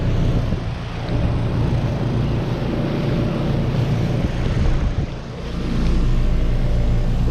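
A 2017 Trane XR14 four-ton heat pump with an Alliance scroll compressor runs in heat mode, giving off a steady, close, broadband whooshing hum that swells slightly louder near the end.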